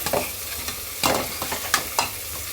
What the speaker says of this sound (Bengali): একবারে ভালো মতো চালটা ভেজে নিলাম